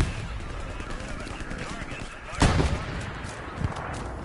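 Battle noise in the World War II shooter Hell Let Loose: a constant rumble of distant gunfire and artillery, with one sharper nearby blast and a smaller thump later.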